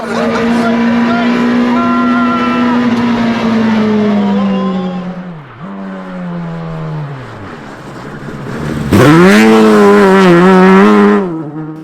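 A Piaggio Ape three-wheeler fitted with a Hayabusa motorcycle engine revs hard and loud, its pitch falling and rising through gear changes before a high, strained climb near the end, with voices talking over it.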